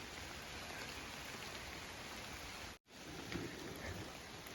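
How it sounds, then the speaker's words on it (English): Light drizzle falling outdoors on a mountain trail during stormy weather, a steady soft hiss of rain without speech, briefly cutting out once before continuing. "Right now it's getting drizzled on."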